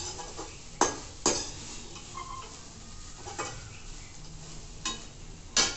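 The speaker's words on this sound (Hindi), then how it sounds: "then I am gonna add my peanuts to it and again I will just give a good stir" Poha with peanuts stirred in a pan, a spoon scraping and knocking against the metal in several sharp clinks spaced irregularly over a soft background of cooking noise.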